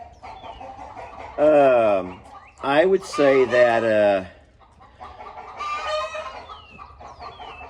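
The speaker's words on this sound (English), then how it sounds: "I don't know if anyone can hear a word with all these chickens." Chickens cluck and squawk loudly nearby in several drawn-out bursts, with a quieter round of clucking trailing after, while a person talks briefly underneath.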